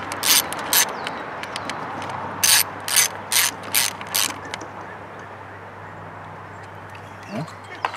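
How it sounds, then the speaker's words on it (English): A ratchet clicks in quick bursts while bolting down parts on a 2010 Ford Fusion during a spark plug change, a close series of sharp ratcheting strokes followed by quiet background and faint talk. "So we're just going to go ahead and bolt everything down"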